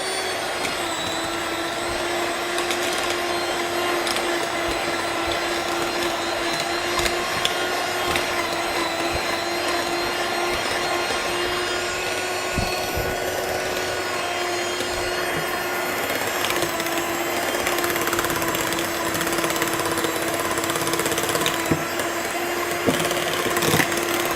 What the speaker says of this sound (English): And now we beat it to perfection.